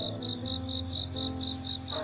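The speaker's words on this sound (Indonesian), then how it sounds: "Jangkrik jantan menghasilkan suara untuk menarik perhatian betina, menandai wilayah, atau memperingatkan bahaya." Steady, evenly spaced cricket chirps repeating about four times a second, soft and continuous over a quiet low hum.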